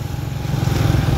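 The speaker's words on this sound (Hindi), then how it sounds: "बाइक पर हम ठीक ठाक जो है ना अंदरून लाहौर फिर रहे हैं।" A motorcycle engine drones steadily and close while riding through the narrow inner streets of old Lahore, a loud continuous low rumble that rises slightly in pitch as it accelerates.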